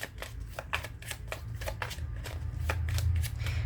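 A Gypsy tarot deck being shuffled up close, giving rapid, regular riffling snaps of cards about every quarter second, crisp and continuous throughout, with no voices.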